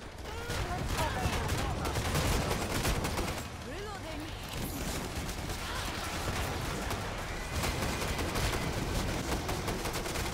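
Dense, continuous gunfire rattles through a chaotic Killing Floor 2 firefight, rapid automatic bursts layered with heavier shots and brief pauses, sustained for ten seconds at a moderately loud level.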